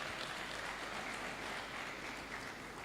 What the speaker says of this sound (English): I think we should clap for Ashivas University.